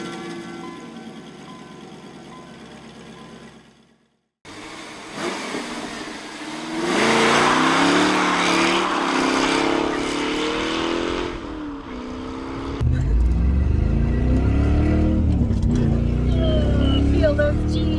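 A 1995 Corvette C4 with its 300-horsepower LT1 V8 pulls hard under acceleration, the engine note climbing through rising revs and swelling louder toward the end, with a brief silent gap early on and a voice talking over it.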